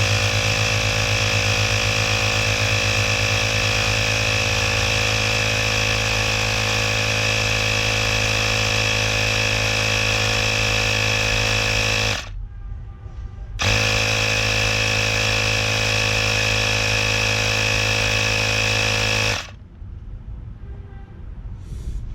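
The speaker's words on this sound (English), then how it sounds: "When you have the actual compressor going, it doesn't show you the accurate reading." A Ryobi power inflator's compressor runs with a loud, steady, buzzing drone that cuts out briefly twice, near and alone.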